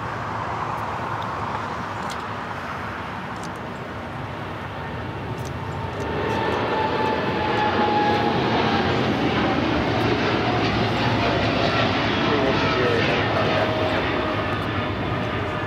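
Airliner landing on runway 25 left at LAX, a jet engine rumble that swells noticeably midway and stays loud and close, with a faint whine over the steady roar.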